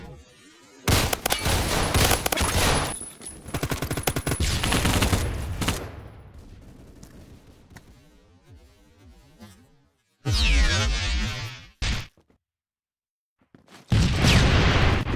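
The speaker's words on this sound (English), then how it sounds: "The amount of grenades in the footage is horrifying" Grenade explosions and bursts of gunfire from the Roblox shooter Phantom Forces, a loud, dense barrage of blasts and rapid shots with brief lulls, and one near-silent gap before the firing resumes.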